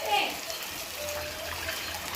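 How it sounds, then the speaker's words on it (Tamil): Water poured onto washed raw rice in a pan while making rice upma, a brief splash followed by a soft, steady trickle. "1க்கு 2 தண்ணி சேர்க்குறேன்."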